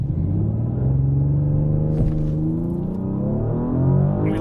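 An Audi from the A7, S7 and A8 4.0T lineup launches hard from about 3,000 rpm in a 0-60 run, its engine rumbling loud and steady as it pulls through rising revs and a gear shift, with no voices.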